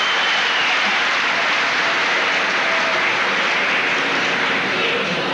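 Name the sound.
audience applause welcoming speaker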